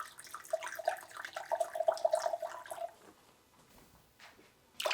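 Half a cup of white vinegar poured for a homemade daily shower cleaner, making a thin, steady trickle for about two seconds before a pause and a brief splash at the end.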